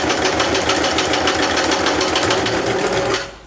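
A sewing machine stitches a messenger bag with a fast, steady mechanical chatter, loud and close, running continuously before slowing to a stop at the end.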